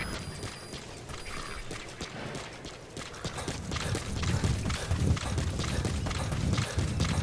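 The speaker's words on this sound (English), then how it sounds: "Cavalo." Horse hooves in Metal Gear Solid V, clopping along steadily under game ambience and mechanical sounds, growing louder and heavier toward the end.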